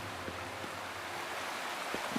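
Waterfall in the video game Wuthering Waves, a steady broadband rushing roar without any clear breaks, moderately loud and even.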